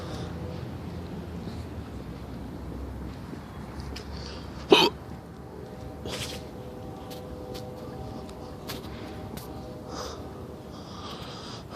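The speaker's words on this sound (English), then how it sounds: "Jeez, these hiccups are rough." Hiccups from a person, one loud sharp hiccup midway with a few fainter ones after it, over a quiet, hissy room background.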